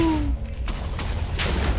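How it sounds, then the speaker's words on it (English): TNT exploding in Minecraft on PlayStation 4, a few dull blasts in quick succession after a brief tone, moderately loud game audio. "Explosion."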